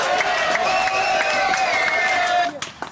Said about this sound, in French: Allez, on applaudit Eugène, qui se donne du mal pour trouver l'identité du père du bébé d'Isabelle II.